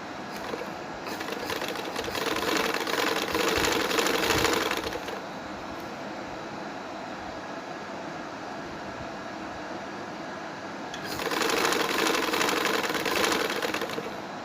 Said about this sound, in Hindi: इसको मैं यहाँ से सिलाई लगाऊंगी।